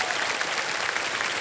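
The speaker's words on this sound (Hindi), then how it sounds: "तालियों के साथ इनका स्वागत" Brief burst of dense clapping from a TV quiz show studio audience, even and sustained, fairly loud and close.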